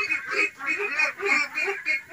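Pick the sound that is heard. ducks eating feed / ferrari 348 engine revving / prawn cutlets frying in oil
ducks eating feed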